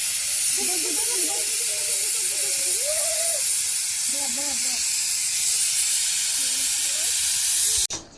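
A pressure cooker whistle blows in a long, steady, loud hiss while food cooks outdoors in a village courtyard, with faint voices and wavering tones underneath before it cuts off abruptly near the end.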